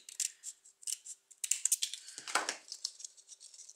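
Scissors snip paper in a series of quick, crisp cuts, close and fairly quiet, with short pauses between bursts and one slightly heavier rustle partway through. There is no talking.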